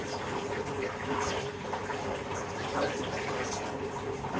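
Running water being swished by hand, a constant broadband wash of splashing and flowing close up with a faint steady hum beneath, no talking.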